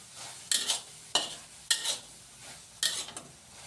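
Minced pork with holy basil stir-fried in a hot pan as sweet dark soy sauce goes in, four sharp bursts of scraping and sizzling at a regular rhythm, close and fairly loud.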